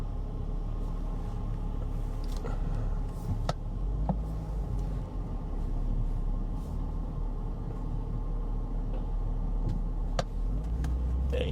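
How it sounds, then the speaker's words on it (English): A giant truck driving back and forth nearby, a continuous low engine rumble with occasional clunks and knocks, steady and fairly loud throughout. "this like giant truck is like been back and forth like in front of me for the past 5 minutes"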